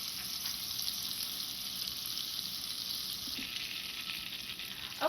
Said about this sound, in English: now that our butter is pretty much melted